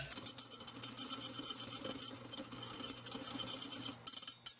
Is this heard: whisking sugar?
yes